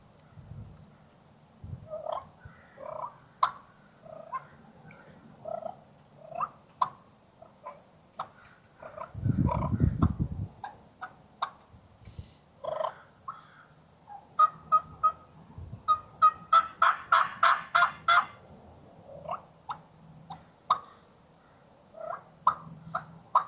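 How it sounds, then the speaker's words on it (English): A Hot Hen turkey call from Mill Creek Valley Game works through soft clucks and purrs, then a quick rolling flutter of rapid notes, ending with a few more purrs, close and clear. "you can do nice little flutter purrs"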